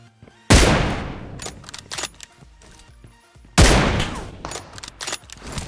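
In PUBG Mobile, an M24 sniper rifle fires two loud, sharp shots a few seconds apart. Each shot echoes and decays, with fainter game sounds in between.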